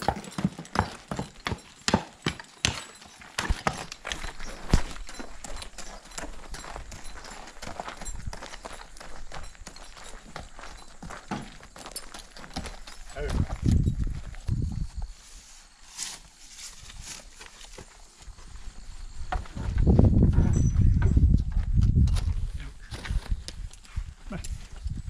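Horse hooves clip-clop steadily on the ground while the horse is hitched to a cart with new wooden shafts for tedding hay, with a rhythmic close beat and a person talking.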